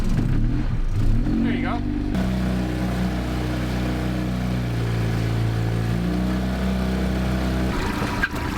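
An outboard boat motor runs steadily out on the ocean with a low, droning hum that shifts slightly in pitch, while someone speaks briefly near the start.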